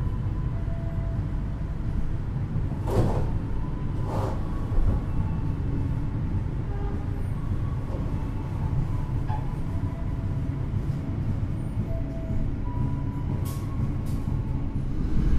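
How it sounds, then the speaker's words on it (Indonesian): The Jaka Tingkir train departs Kutoarjo station at night with a steady, moderate low rumble of rolling carriages, a few brief squeals or clanks rising over it, and no voices. "kereta api Jakatingkir diberangkatkan kembali dari stasiun Kutoarjo"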